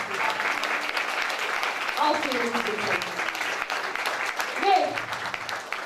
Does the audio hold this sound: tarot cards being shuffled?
no